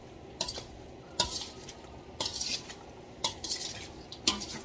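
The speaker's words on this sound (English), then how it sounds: "To add my homemade hot pepper sauce that I made last year. I'll give this a good stir." Homemade hot pepper sauce stirred into Guyanese lime sour, a spoon scraping and clinking against the bowl in five or six short strokes spaced about a second apart, close and fairly quiet with no talk.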